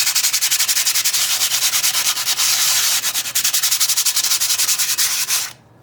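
Sandpaper of 80 grit rasps steadily across rusty metal in fast back-and-forth strokes, a loud, close, continuous scratching that stops abruptly just before the end.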